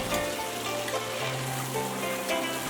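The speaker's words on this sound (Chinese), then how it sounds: "投入油锅中，用炒勺轻轻翻动，将皮皮虾炸至全身透明发红" Mantis shrimp deep-frying in hot oil, turned gently with a wok ladle, giving a continuous loud bubbling sizzle with a few faint ladle taps.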